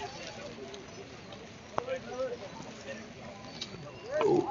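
Horses carry trekkers up the rainy mountain trail to Kedarnath, with a few soft hoof clops among steady voices and outdoor noise.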